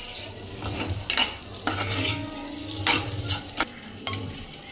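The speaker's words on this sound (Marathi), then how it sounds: "आपण अंडी उकडून घेतलेली आहेत ते आपण त्यात मिक्स करून घ्यायची, चांगली भाजून घ्यायची।" Boiled eggs fry in oil with red chili powder, a steady sizzle running under repeated scrapes and clinks of a spoon stirring against the pan.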